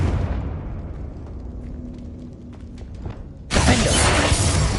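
A Confringo spell explosion in the video game Hogwarts Legacy bursts in suddenly as a loud, sustained, broadband blast after a stretch of quieter game ambience.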